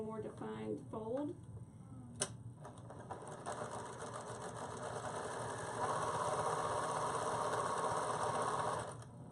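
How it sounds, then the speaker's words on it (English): A sewing machine stitches a line through the center of a card holder, starting after brief talk with a steady mechanical whir that runs continuously and grows louder midway before stopping. "I'm going to do a little sewing, a little line right through the center"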